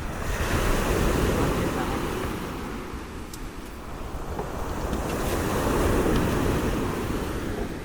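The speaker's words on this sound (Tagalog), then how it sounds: "Alam mo, malalaki ang alon eh." Ocean waves surge and wash in broad swells at night on the coast of Hugom, San Juan, Batangas, with wind buffeting the microphone; the roar rises, dips, and builds again.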